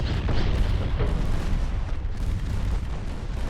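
Warship main and secondary guns firing in Ultimate Admiral Dreadnoughts, a steady barrage of heavy booms and rumbling blasts that overlap continuously with no pause, loud and dense throughout.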